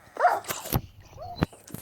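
Dogs bark and yip in a zombie-villager attack video game, several short sharp barks spread across the moment, fairly close and clear with no talk over them.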